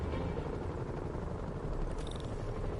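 Helicopters in Marvel's Spider-Man video game give off a steady whirring rotor drone, continuous and fairly even, with a brief bright tone near the end.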